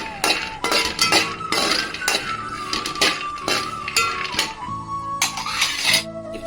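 Peanuts and coconut roasting in a pan, with repeated bright clinks and scraping knocks of a utensil against the metal in an uneven rhythm, close and loud.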